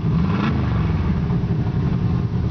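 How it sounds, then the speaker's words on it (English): Deep, rumbling exhaust of a 1960 Chevrolet Bel Air through side pipes, idling steadily with a throaty burble, close and loud throughout. "Got a nice sounding exhaust, side pipes."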